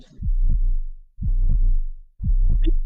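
Three loud, deep heartbeat thumps, evenly spaced about a second apart, each a heavy throbbing pulse with a short tail.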